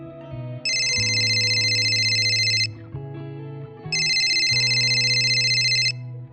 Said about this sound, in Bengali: ফোন এলো।